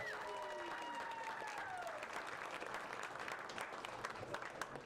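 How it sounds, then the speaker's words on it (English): A meetup crowd applauds startup founders with steady, dense clapping from start to finish, while faint tonal music lines glide underneath early on. "Let's give them one more round of applause."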